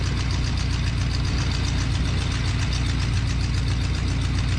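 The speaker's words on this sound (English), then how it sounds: "Idle's pretty good." A 1970 Fury III with a 360 engine idles close by, with a steady, even, rumbling beat and no voices.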